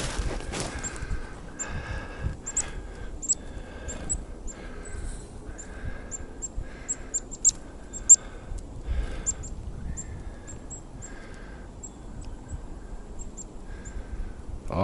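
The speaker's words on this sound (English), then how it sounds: "there's chickadees coming" Small birds call in short, high, repeated chirps and notes scattered across the stretch, fairly faint over a steady outdoor background hum, with occasional louder harsh calls mixed in; no one speaks.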